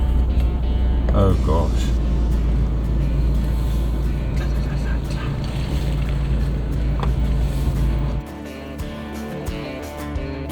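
A Toyota Hilux drives through the Okavango Delta's Khwai area on an overland trip, its engine a steady loud rumble with road noise throughout; the drone drops in tone near the end as people talk inside over it.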